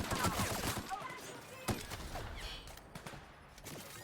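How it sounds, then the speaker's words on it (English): Heavy-ammo gunfire in The Outer Worlds, a dense run of sharp overlapping shots across the whole stretch, loud and close, with one stand-out crack partway through and brief speech mixed in. "Alright, time to use heavy ammo."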